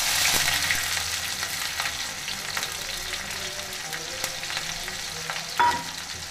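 Chillies and onion frying in a pan give off a continuous close sizzle, with occasional scrapes and clinks from stirring.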